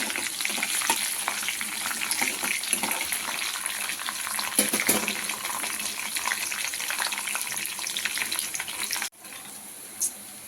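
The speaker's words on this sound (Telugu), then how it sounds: "దీంట్లో ఒక 4 వెల్లిపాయలు పొట్టుతో సహా దంచి వేసుకోవాలండి. ఇది కొంచెం ఫ్రై చేసుకుందాం." Four crushed garlic cloves, skins on, fry in hot oil with mustard seeds, cumin and fenugreek for methi dal. A steady, close crackling sizzle with stirring scrapes runs throughout, then drops off sharply near the end.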